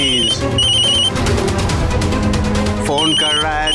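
A mobile phone ringtone plays loudly in a dramatic indoor scene, a repeating electronic melody that starts, breaks for a few seconds under a dense music bed, then returns near the end.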